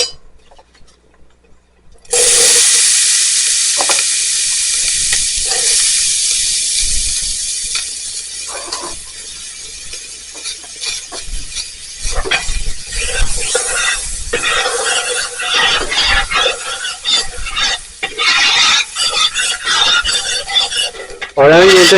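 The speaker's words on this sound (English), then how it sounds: "Our onions and our vegetables need kind of sauteing, I guess, for about 5 minutes." Onions and vegetables sauté in a pot for a Cajun meatball stew, with a steady sizzling hiss under repeated scraping and clattering strokes of a utensil stirring against the pot.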